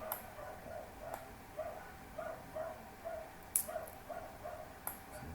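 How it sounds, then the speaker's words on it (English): Several dogs bark somewhere in the distance, faint, spaced yaps recurring roughly every half second over a steady indoor hum, with sharp clicks of computer work nearby. "There's some dogs"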